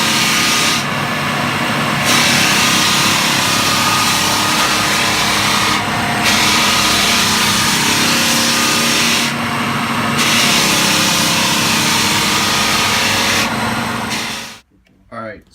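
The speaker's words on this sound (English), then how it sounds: "after you saw the machine sanding" A floor sanding machine grinds across a hardwood floor with a loud, continuous rushing roar, briefly dipping in intensity several times before cutting out at the end.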